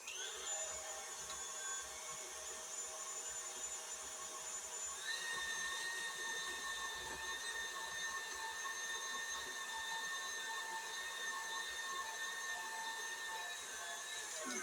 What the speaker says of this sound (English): Just going to whisk this around so this butter is really well creamed.